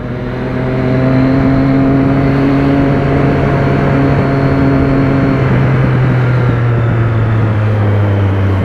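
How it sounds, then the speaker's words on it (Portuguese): A loud car engine roars close by on the road, a sustained, heavy drone that holds steady and shifts slightly in pitch, with no talk over it. "O carro do cara faz mais barulho que a minha moto."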